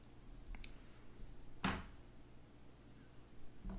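A single sharp snip of scissors cutting white crochet yarn, close and brief, in an otherwise quiet room.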